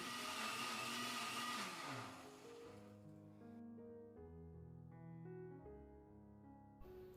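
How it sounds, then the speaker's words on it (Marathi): Mixer grinder running to blend spice paste into a fine puree, a loud whirring motor whine that drops in pitch after about two seconds and keeps droning steadily at a lower tone, close up with no talking. "आता मिक्सरचं झाकण लावलं आहे आणि लगेचच हे मिक्सरला फिरवून घेते"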